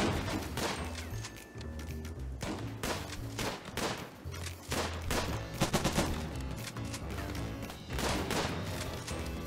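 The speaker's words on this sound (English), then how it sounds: "we dug a trench and set up a heavy machine gun turret" Heavy machine gun turret in RimWorld firing dense, sustained bursts of automatic gunfire with thudding impacts, loud and continuous across the whole stretch, with no talk.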